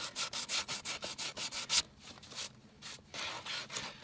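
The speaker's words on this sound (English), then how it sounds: "this is getting a little bit boring watching me sand away on the hoof walls" Sandpaper rubbed back and forth over a horse's hoof wall, close rhythmic rasping strokes with a brief pause partway through.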